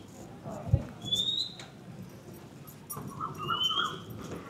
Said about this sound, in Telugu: వింటే పక్షులు చాలా బ్యూటిఫుల్గా సౌండ్ చేస్తున్నాయి.